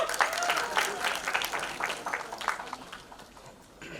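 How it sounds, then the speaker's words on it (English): Audience at a film trailer launch clapping for actor Sathyaraj, a burst of dense applause that starts strong and gradually thins out, with a voice heard over it. "can we have a big round of applause for Satyaraj sir?"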